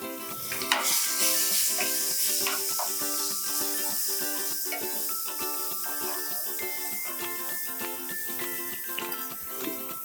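Ginger garlic paste and turmeric fry in hot oil for an Andhra-style gongura mutton curry, giving a steady, close sizzle that runs throughout beneath tonal background music.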